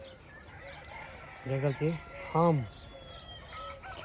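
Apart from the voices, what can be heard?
local chickens, rooster crowing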